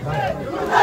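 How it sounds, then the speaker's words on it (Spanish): Home supporters of the Candelaria Abajo side in El Salvador let out a short, loud burst of crowd cheering and shouting, close and dense, lasting under a second. "Ahí vienen los aplausos de respectivo público que nos acompaña"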